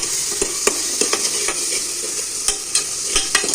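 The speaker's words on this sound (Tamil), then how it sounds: "இதையும் நம்ம நல்லா வதக்கிக்கலாம்." Chopped onion, tomato and mint sauté in a hot pan, hissing steadily while a spoon scrapes and taps through the mixture in irregular strokes, close up.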